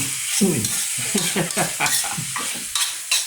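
Fish is stir-fried with holy basil in a pan, a close, busy sizzle with repeated scraping strokes of a spatula stirring the food in a steady rhythm, with no talking.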